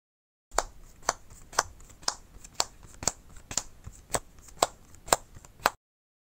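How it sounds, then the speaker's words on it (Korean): A Marvel Champions player card deck is shuffled by hand, giving about ten sharp, evenly spaced riffle or bridge snaps over a soft continuous rustle of cards, close and fairly quiet with no talking. "플레이어 덱을 셔플합니다."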